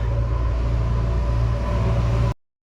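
A Bajaj auto rickshaw with a BS3 engine and a gear-jerking fault runs in a steady, close, rumbling drone that cuts off abruptly near the end.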